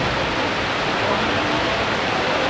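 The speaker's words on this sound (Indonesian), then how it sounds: "hujan turun dengan lebatnya disertai angin dan kilat" Heavy rain with strong wind pours down at night over the Borobudur area during a thunderstorm, a dense, steady, loud roar filling the whole clip without a break.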